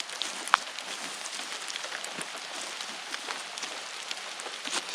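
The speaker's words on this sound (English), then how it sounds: "It's raining just a little bit." Light rain pattering on leaves in the woods of the Green Swamp Wilderness Preserve, a soft continuous hiss of fine drops with occasional closer taps, no voices.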